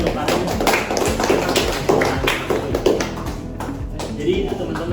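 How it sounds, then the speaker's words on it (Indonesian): Children clap for Farhan in a classroom at an early-childhood lesson, a dense run of quick, uneven claps lasting several seconds, mixed with voices talking over them. "tepuk tangan buat Farhan"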